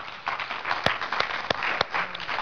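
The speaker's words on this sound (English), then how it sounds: "Someone give him a hand clap of praise." A church congregation clapping hands in praise, a short burst of scattered, fairly faint claps with a few sharper individual hits.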